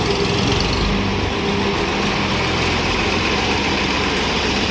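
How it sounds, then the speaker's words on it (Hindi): A tractor engine running steadily and loudly nearby, a continuous broadband rumble and drone with no pauses or variation. "वाह ये है ट्रैक्टर, कितना अच्छा ट्रैक्टर है बच्चों"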